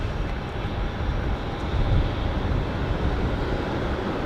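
Rex and Link Airways Saab turboprops at Brisbane Airport at night: a steady, loud, broadband engine roar that rises slightly midway and holds without a break.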